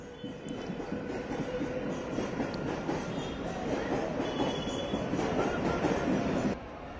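A Mumbai suburban train runs through Dadar railway station, a continuous loud rumble of wheels and carriages with faint squeals and clanks, steady through the whole stretch.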